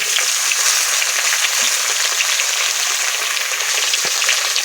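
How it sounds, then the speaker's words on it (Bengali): Loud, steady sizzling of vegetables, including raw banana, frying in a hot pan for shukto, with a few faint clinks of stirring and no talk. "তাড়াতাড়ি ভাজা হয়ে যাবে"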